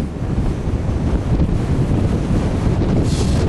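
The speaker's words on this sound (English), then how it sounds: "Very windy" Strong wind on a Lake District fell walk buffeting the microphone in a steady, loud roar with low rumbling gusts, no voices.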